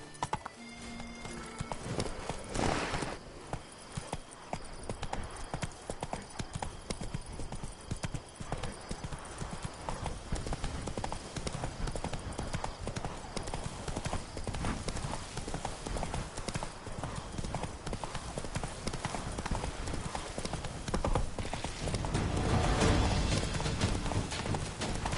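Roach, a horse in The Witcher 3 video game, trots with steady clip-clop hoofbeats throughout, set against continuous game ambience and occasional other sounds.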